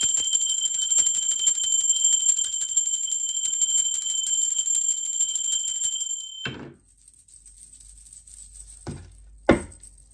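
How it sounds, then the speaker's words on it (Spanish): A bell rings continuously with a bright, sustained metallic tone for about six seconds, then cuts off, followed by quiet and a couple of dull knocks. "¡Va, campana!"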